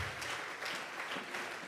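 A church congregation gives a sustained round of clapping as an offering of praise to God, a dense, even wash of many hands at moderate distance with no voices standing out.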